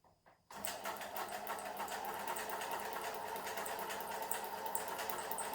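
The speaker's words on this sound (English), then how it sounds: "practicing sewing curved lines. I'm going to start on this one." A sewing machine stitches curved lines on fabric, starting abruptly after a brief quiet moment and then running as a steady, fast, close mechanical whir with a rapid needle rhythm.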